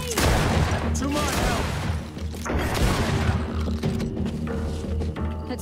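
A grenade blast and surrounding combat in the fantasy action RPG GreedFall, with loud crackling gunfire, a heavy burst and clanking mechanical noise packed densely together, close and harsh throughout.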